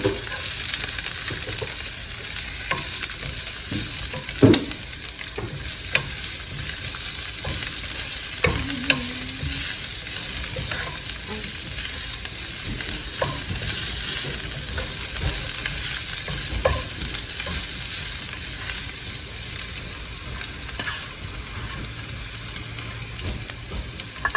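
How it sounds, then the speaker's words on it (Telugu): Ginger and green chillies fry in a pan with a constant, close hiss of hot oil. Occasional clicks and scrapes of a spoon stirring cut in over the steady sizzle. "అల్లం, పచ్చిమిర్చి, వేసేసి వేయించాలి."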